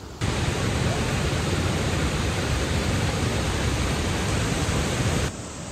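Wei Sawdong waterfall in Meghalaya gives off a loud, unbroken roar of falling water, heard close and constant for about five seconds before cutting off abruptly, with no voices.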